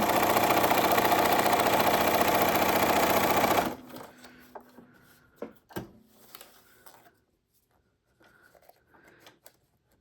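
A sewing machine stitches steadily on paper in a loud, close, continuous whir, then stops abruptly, followed by a few faint clicks and handling noises.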